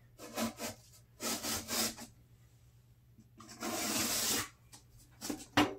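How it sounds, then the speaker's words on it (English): A razor knife slices through the paper backing of snapped drywall during a repair after water damage, giving several short, close scraping rasps and then one longer, steadier cut. "Take the razor knife and finish cutting the back."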